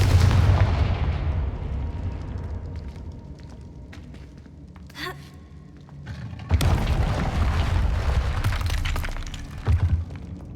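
In the Hogwarts Legacy video game, Confringo spell explosions go off as heavy booms with shattering debris, followed by a quieter stretch and then another loud burst of blasts and crackling.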